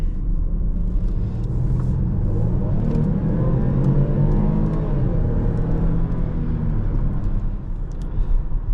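A 2016 Range Rover Sport HSE with a supercharged V6 runs close up, with a loud, steady low engine rumble that swells gently in the middle and then settles, heard alone without talking.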